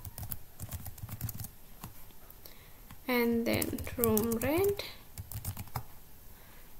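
Steady keystrokes on a computer keyboard while filling in a table in a word processor, a quick clicking rhythm running under a voice talking throughout.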